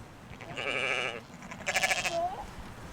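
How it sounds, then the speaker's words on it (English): Dorper sheep on a mountain farm bleat in two wavering calls, the second more broken and pulsing, heard fairly close against faint outdoor background noise. "These Dorper sheep are well suited to mountain life."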